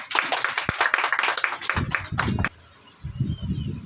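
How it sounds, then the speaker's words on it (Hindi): An audience at an Indian news channel event claps in a loud, close burst that breaks off abruptly, then starts up again more loosely after a short pause. "तालियां बजाते रहे भाई"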